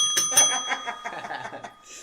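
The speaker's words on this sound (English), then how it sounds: "Ring that bell again, boy." A bell rings close by in a bright series of rapid dings, loud at first and then thinning out, with faint chuckling underneath.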